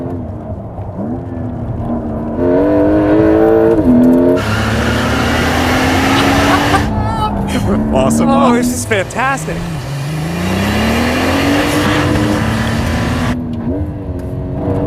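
A Porsche 992 Turbo S Mk II facelift accelerates hard through several rising gear pulls with clear shifts, loud and close inside the car, while occupants speak excitedly over the engine.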